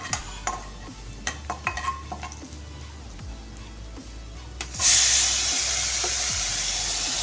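Potato slices go into hot peanut oil with cumin and red chilli, first with light scraping and stirring clicks, then a sudden loud, steady sizzle that carries on to the end.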